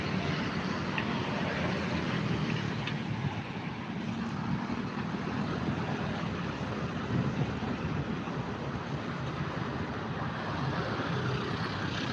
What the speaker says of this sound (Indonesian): di sini memang anginnya agak deras sekali